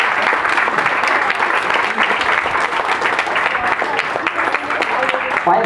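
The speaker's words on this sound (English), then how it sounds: "let's give your instructors who aren't here a round of applause for doing that too" A college audience applauding at a campus event, a dense, sustained round of clapping with sharp individual claps standing out, steady and fairly close, with faint voices mixed in.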